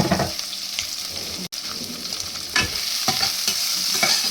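Onion, garlic, long-cut green chilies and cumin frying together in a pan, a steady close sizzle with scraping stirs and a brief gap partway through.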